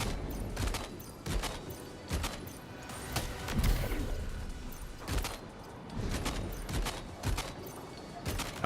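Gunfire in a shooter video game comes as repeated sharp bursts and cracks at irregular intervals. The shots are moderately quiet over a busy background mix.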